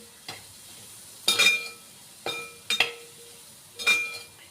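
Raw mango mixture with curry leaves and coriander stirred in a pan: four or five distinct scraping, clinking spoon strokes against metal over a faint sizzle, close up, with no voices.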